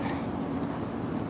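Steady low rumble of a train passing in the background, continuous and even throughout with no other distinct sound.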